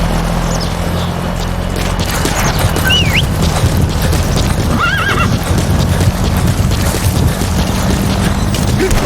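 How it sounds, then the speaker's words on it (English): Horse hooves clip-clop steadily through a wilderness in Metal Gear Solid V: The Phantom Pain, with two short whinnies rising above the gallop, all set over a constant low engine-like rumble. "Use your horse"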